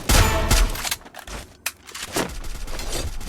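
Bursts of video game gunfire ring out, a dense rapid volley at first, then scattered single shots and lighter reports trailing off over a few seconds.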